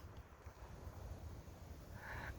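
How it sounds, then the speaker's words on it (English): Steady wind buffeting the microphone, a constant low rumble with a faint higher tone near the end; no talking. "It's going to be a quick video because it's really windy."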